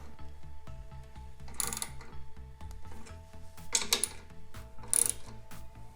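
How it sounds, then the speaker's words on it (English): A torque wrench tightening bolts on a OneLap G801 smart spin bike, quiet rapid ratcheting clicks in regular bursts with a few sharper metallic snaps, close and faint. "now I'm going to go ahead and torque them to spec."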